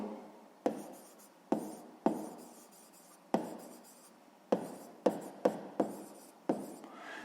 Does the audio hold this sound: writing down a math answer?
yes